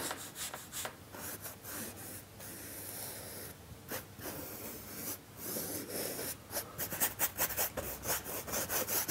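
Brush strokes of black acrylic background thinned with water across a canvas, a steady series of soft close scraping and rubbing swishes, quiet and alone with no talk.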